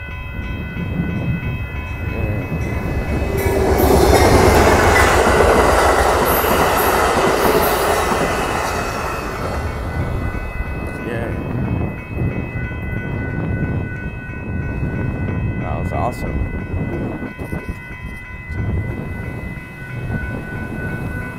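Northbound Amtrak Texas Eagle passenger train passing a road crossing in Austin, Texas, a loud close roar of rolling wheels and clattering cars that peaks early then fades to a lingering rumble, no speech.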